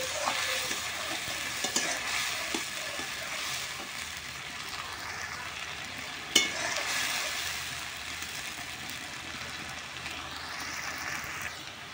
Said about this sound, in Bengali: এবার এই টমেটো এটা দিয়ে দেবো। খুব ভালো করে নাড়ে নেব।